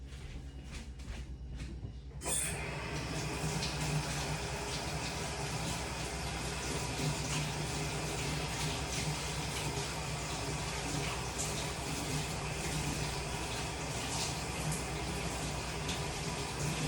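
Tap water runs steadily over green onions being rinsed at a kitchen sink, a constant close hiss of flowing water that switches on abruptly and continues unbroken, with no talking.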